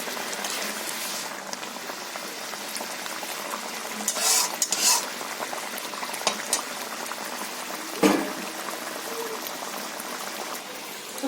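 Mustard hilsa fish curry simmering under a cover, with a green chilli added, gives a steady soft bubbling and sizzling, interrupted by a few louder clinks and stirring sounds.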